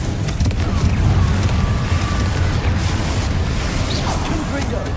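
A Confringo fire spell exploding in Hogwarts Legacy, a loud booming burst and crackling rumble that fills the moment, with a voice talking over it.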